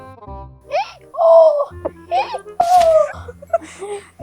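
A voice imitates a donkey's braying with close, loud, wavering hee-haw swoops that rise and fall in several bursts, separated by brief pauses.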